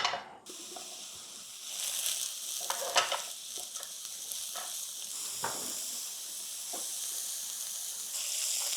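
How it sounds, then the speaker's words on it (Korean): Onions and mushrooms stir-fry in oil in a pan, giving a steady, fairly quiet sizzle. Soft scrapes and clicks of stirring come now and then, with no talking. "양파는 각자 취향에 있을 텐데 약간 금빛 또는 갈색빛이 돌 때까지 볶겠습니다"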